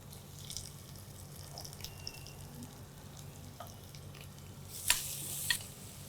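Finely chopped onions dropped into hot ghee with garlic, giving a soft steady sizzle and frying crackle, with a brief louder burst of spattering near the end.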